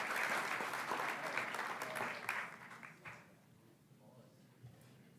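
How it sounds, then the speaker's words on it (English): An audience at a state education board meeting claps in a round of applause that begins full and dense, then thins to scattered claps and fades out. "All right, another round of applause."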